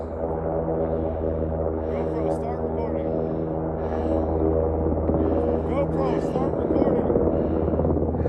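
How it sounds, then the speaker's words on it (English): A Black Hawk helicopter with a steady, loud rotor and engine drone holding throughout, a low pulsing hum with some rising turbine whine, under people talking. "Blackhawk crashes hard, blades flying, and the crew just walks out."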